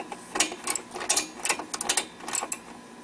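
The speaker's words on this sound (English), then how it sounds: "ratchet's on its last days" Rapid bursts of dry clicking from a worn ratchet tightening screws with a 9/16 socket while an Ariens ST622 string trimmer is worked on, coming in short irregular runs close to the microphone.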